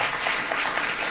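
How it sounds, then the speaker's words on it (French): An audience at a forum on Israeli and Palestinian women for peace applauds the speakers, with steady, continuous clapping filling the whole short stretch. "On peut les applaudir."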